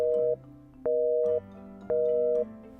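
Busy signal on a 1980s telephone: three loud, steady dual-tone beeps in an even on-off pattern, each lasting about half a second, with a faint background hum between them.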